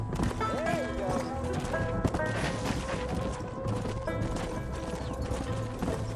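Horse hooves clip-clopping in the Red Dead Redemption video game, a steady rhythmic trot mixed under game music and ambient effects.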